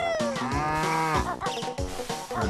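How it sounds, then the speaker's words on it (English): A monstrous demon cow in the Banjo-Kazooie video game lets out a loud, drawn-out moo with wavering harmonics, followed by a couple of shorter grunting moos, all close and alone without talk. "That is a demon cow spawned from hell."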